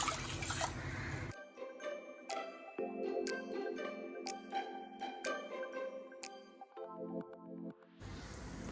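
Water is poured into a pot of washed rice, a trickling, tinkling splash with bright ringing drips that stops and starts, set between bursts of louder broadband noise.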